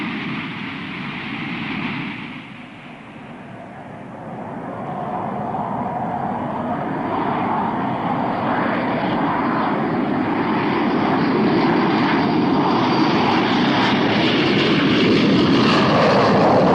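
Propeller airplane at an international airport in Abu Dhabi, a loud sustained engine drone that dips briefly and then builds steadily, heard alone with no talking.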